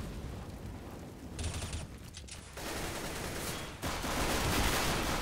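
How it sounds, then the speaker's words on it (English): Gunfire in a Counter-Strike match on the Inferno map, dense rattling bursts of automatic fire filling the clip at steady loudness, with shifting game effects and no voices. "Kenzie getting a triple kill"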